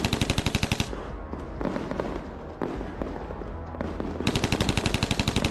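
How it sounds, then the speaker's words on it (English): Loud, rapid bursts of automatic gunfire at the start and end, with a rumbling, chaotic din of shots and blasts in between, from close-range fighting between Ukrainian and Russian forces. "The sound of gunfire echoed from every direction"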